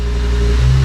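A BMW E39 M5 with a swapped S85 V10, clutch out in first gear with the wheels not turning, hums loud and steady up close, its pitch rising slightly in a brief blip of revs.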